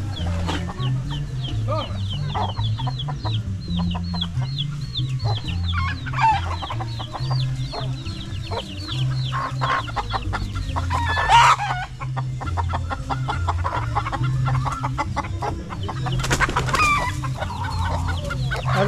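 Chickens cluck and chatter continuously at a family gathering, with a rooster crowing loudly a couple of times, heard close up under occasional talk.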